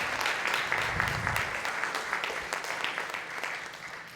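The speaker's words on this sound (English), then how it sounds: "Let's give her a big round of applause." After an evening stage performance, the audience claps for the performer at a felicitation event, a steady round of applause with distinct sharp claps, moderately loud and gradually thinning out toward the end.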